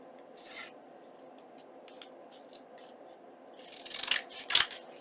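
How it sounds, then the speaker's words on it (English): Scissors trimming paper level with an envelope edge for a junk journal. A few quiet close snips and rustles build into louder cuts near the end. "let's just trim this right at the envelope. Let's give that a trim."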